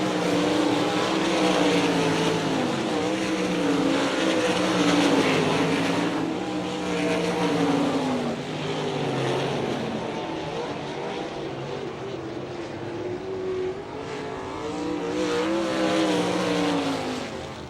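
World of Outlaws sprint cars racing at Sharon Speedway in Hartford, Ohio, with loud roaring engines rising and falling as cars pass close by in a continuous pack, no voices.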